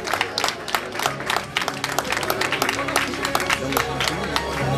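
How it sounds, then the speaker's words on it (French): At a 2009 canton footrace, spectators applaud the runners with dense, sustained clapping. It blends with crowd murmur and holds at a fairly even level throughout. "Voilà, on peut les applaudir très très fort."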